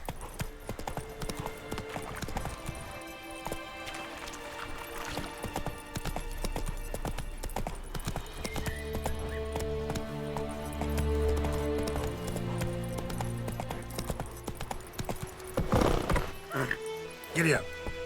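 Hooves of a horse galloping in The Witcher 3: Wild Hunt, a fast, steady clip-clop rhythm with game music and effects behind it, and a brief whinny-like burst near the end.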